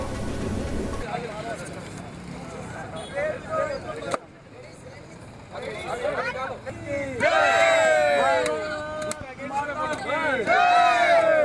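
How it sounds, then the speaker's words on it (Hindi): Protesters from a student group chant slogans against Mamata Banerjee over the Sandeshkhali incident. Rhythmic shouted chants rise from a crowd outdoors, loud and close, over general hubbub and traffic. "कार्यकर्ताओं ने ममता बनर्जी के खिलाफ नारेबाजी भी की।"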